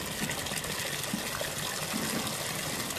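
Water pouring steadily into containers being filled for a pigeon vaccine mix, about fifteen litres in all, a continuous close gushing rush with no talk.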